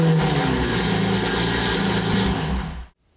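A Ferrari engine runs loud and steady for nearly three seconds, with a low, even rumble, then cuts off abruptly into silence.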